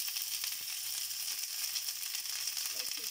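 Hot oil sizzles steadily in a frying pan, a close, continuous hiss with faint crackles throughout and no talking.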